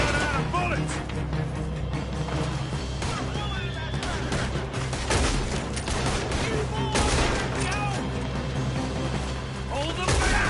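A gunfight in Red Dead Redemption 2 runs throughout as a steady, dense barrage of gunshots and rapid fire. Distant and close shots overlap under constant background din, with speech mixed in.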